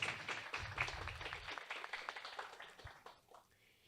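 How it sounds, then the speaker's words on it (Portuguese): Audience applause for two visiting sign-language professors at an academic lecture event, a dense patter of many hands clapping that starts strong and gradually thins out and fades over a few seconds. "Uma salva de palmas a elas,"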